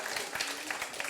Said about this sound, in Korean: 우리 박준 가수께 다시 한번 큰 박수 부탁드립니다.